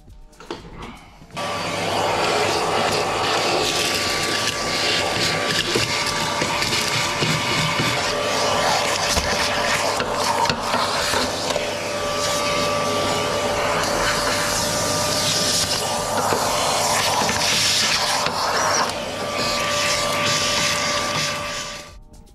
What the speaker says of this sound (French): on va attaquer le ponçage de toute la baie moteur